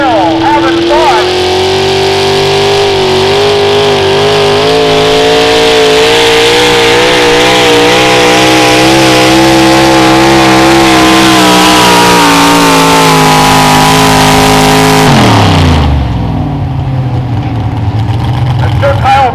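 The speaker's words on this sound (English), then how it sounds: "Let's see if Kyle Brown and his tractor can live up to his name and still having fun" A Tri-State Imp Farm tractor in a tractor pull run roars at full throttle, a loud sustained engine note holding steady pitch and then dropping sharply as the power cuts near the end.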